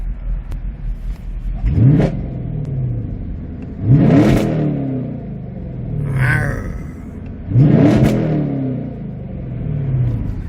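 A 6.2-litre V8 in a 2017 Chevrolet Camaro roars through three loud, close rising revs, each climbing sharply then falling back to a deep rumbling idle between bursts.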